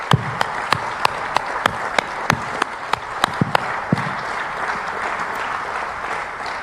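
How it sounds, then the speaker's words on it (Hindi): Scattered claps, then a steady soft applause from a meeting audience standing for Prime Minister Modi, with a few sharp individual claps up front over a rolling background of hands. "खड़े होकर सभी ने तालियां बजाई जोरदार"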